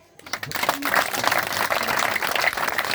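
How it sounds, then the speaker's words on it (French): An audience at a parliamentary visit in Mayoko breaks into applause for the deputies, a dense, sustained burst of clapping that swells quickly and continues with crowd noise and voices mixed in. "applaudissons peut-être plus une fois encore pour les députés"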